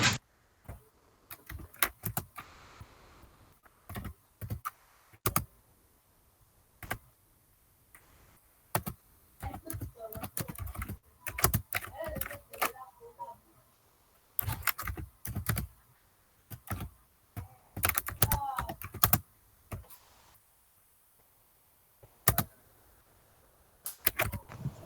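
Close computer keyboard typing in irregular bursts of sharp clicks, separated by short pauses and longer gaps, with no voices.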